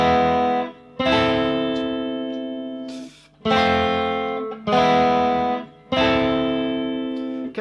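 Guitar playing the chord part of the Fortnite Floss tune: four full chords struck roughly a second apart, each ringing and fading before the next, with a slightly distorted edge and no voices.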